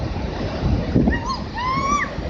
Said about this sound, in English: These waves can be many times larger than the others, move faster, and surge much farther up the shore.